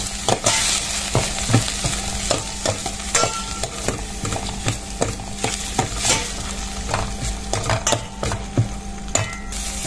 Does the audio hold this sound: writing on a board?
no